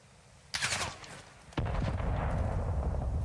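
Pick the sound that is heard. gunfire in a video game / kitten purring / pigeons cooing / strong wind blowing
gunfire in a video game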